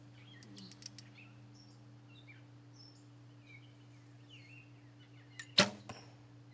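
A single arrow from a bow striking the target with a sharp loud thwack, in a quiet outdoor archery range where birds chirp faintly in the background.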